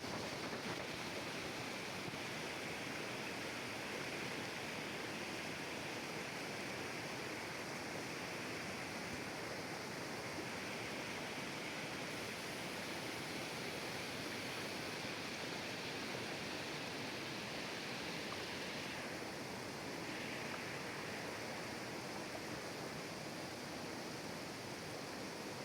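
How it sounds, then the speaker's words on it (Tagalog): Agusais Falls in Sitio Alangilan, Malitbog, Bukidnon, a tall waterfall, roars as a steady, dense rush of falling water, continuous and even throughout with no voices. "Human sa usa ka oras nga baktas sa katapusan, nabot na gid namo ang Agusais Falls."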